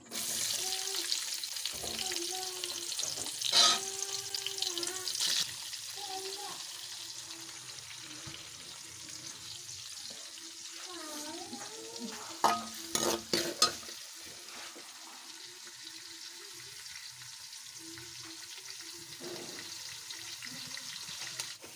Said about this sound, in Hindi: ये हमने घी को ऊपर गर्म होने के लिए रखा हुआ है। इसके अंदर सबसे पहले हम प्याज ऐड करेंगे।